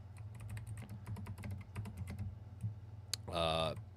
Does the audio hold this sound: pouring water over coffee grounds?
no